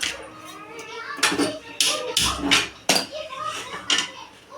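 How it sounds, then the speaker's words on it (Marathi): Masala is roasted in a pan while a spoon scrapes and knocks against the metal in loud, irregular bursts. A faint voice and background noise run underneath. "आता आपण हा मसाला भाजून घेऊया"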